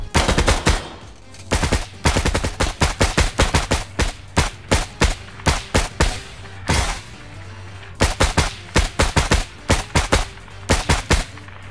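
Rapid automatic gunfire from a tactical shooter game, loud and close, fired in repeated bursts of sharp cracks separated by short pauses across the whole stretch.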